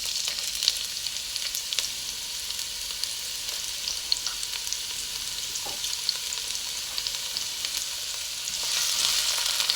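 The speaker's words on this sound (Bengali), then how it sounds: "তেলটা একটু গরম হলে এর মধ্যে দিয়ে দেব পেঁয়াজ কুচি।" Finely chopped onion frying in hot oil for a simple cabbage dish, a steady close sizzle with small crackles and pops, swelling slightly at the end.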